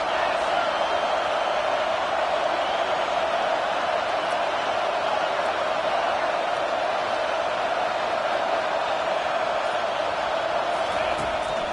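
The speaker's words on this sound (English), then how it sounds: "this crowd trying to help keep them there" A college football stadium crowd roars in a dense, continuous wall of noise, loud and unbroken for the whole stretch, with a commentator talking over it.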